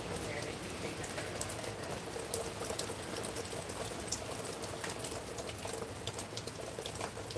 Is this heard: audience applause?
no